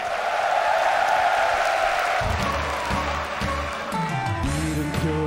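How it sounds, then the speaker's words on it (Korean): An audience at a military academy TV show applauds and cheers to welcome two soldier performers, a loud, dense wash that fades after about two seconds as music starts up. "박수로 모셔볼게요"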